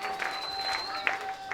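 A church congregation clapping together with a sustained high ululating trill over it, loud and close, in a lively continuous burst.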